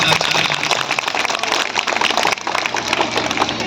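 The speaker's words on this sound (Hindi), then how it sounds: "मैं एक बार सभी साथियों का एक बार जोरदार तालियों के साथ स्वागत करता हूं।" Loud, sustained applause from a crowd at an outdoor political rally greeting party colleagues, a thick continuous roar of clapping with no clear breaks.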